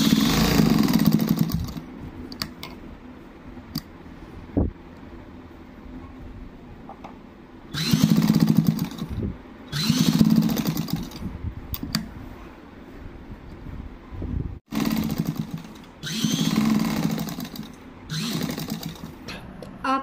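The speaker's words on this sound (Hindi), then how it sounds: "निशान पर अच्छी तरह पकड़ते हुए कपड़े को सिलाई लगानी स्टार्ट करेंगे।" Sewing machine stitching around a large round neckline being made smaller, running in several separate bursts of whirring, stopping and restarting as the fabric is guided slowly around the curve.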